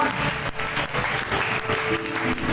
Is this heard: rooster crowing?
no